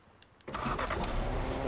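A car engine in Fortnite turning over and catching, a short start-up that settles into a steady, fairly loud idle with no talk over it.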